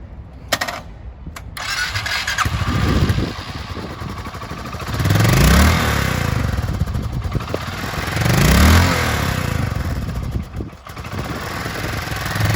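A used 2015 Suzuki Boulevard S40 650cc lightweight cruiser motorcycle engine starts up close by and settles into a loud, steady idle, with two strong revs rising and falling in the middle.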